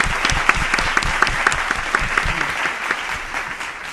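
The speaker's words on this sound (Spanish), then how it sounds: "ahora sí el aplauso" A studio audience claps loudly and steadily for a guest being welcomed onto a Spanish-language television programme, dense and close with sharp individual claps, and no voices over it.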